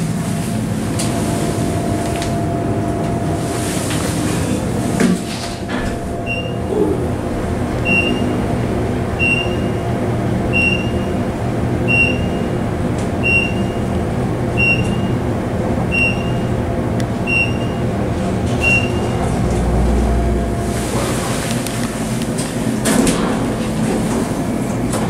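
A Haughton elevator's motor at the Hilton Hotel in Sacramento, a steady loud hum and rumble with a series of regular faint high beeps or clicks through the middle, mechanical whoosh throughout.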